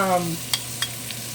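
Tomatoes go into a sizzling pan for a chicken-tomato casserole, giving a soft steady fry with a few short clicks and taps from a stirring utensil, close and moderately quiet.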